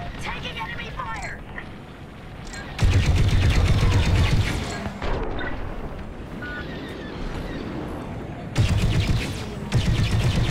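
Enemy blaster fire in the Star Wars Squadrons space combat game comes as loud rapid bursts, one around the three-second mark and another near nine seconds, over a steady engine roar and wind-like rush.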